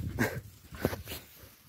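A hunting dog whimpering and yipping during a thrush hunt with air rifles, a few short close whines in bursts over a quiet outdoor background.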